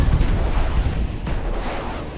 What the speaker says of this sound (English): Launch the torpedo.